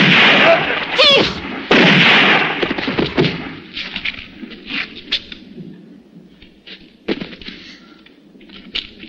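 Gunfire in a French-dubbed western film shootout, several loud sharp shots at the start followed by a scattered run of fainter pops and cracks fading away.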